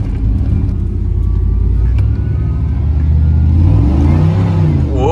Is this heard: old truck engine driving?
yes